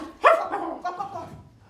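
A dog gives one sharp, loud bark followed by a few softer yips and whimpering sounds, close by, with no talking.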